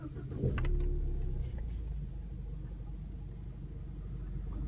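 A 2017 Ford Mustang EcoBoost is switched on, giving a brief start-up surge before settling into a steady low engine rumble heard close from inside the car, with no talk.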